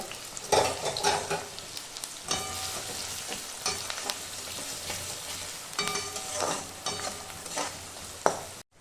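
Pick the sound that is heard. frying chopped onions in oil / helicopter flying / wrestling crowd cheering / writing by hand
frying chopped onions in oil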